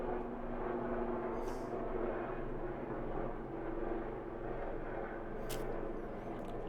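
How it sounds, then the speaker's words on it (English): Police helicopter flying overhead, a steady low rotor drone hanging over a continuous urban background rumble, distant and fairly faint with a couple of brief high clicks. "It's the helicopter, police helicopter."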